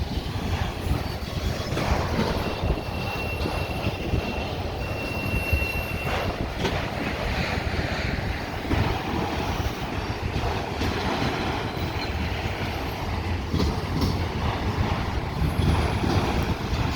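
A CSX mixed freight train rolls past at Fostoria, Ohio, with a continuous loud rumble of wheels on rail, steady clatter and faint high squeals throughout.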